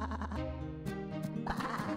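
Cartoon sheep bleat over a bright musical score as a flock slips through a hole under a fence, several short wavering bleats overlapping the music, fairly close.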